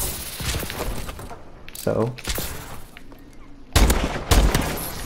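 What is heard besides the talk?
gunfire from shooting in the video game Call of Duty: Advanced Warfare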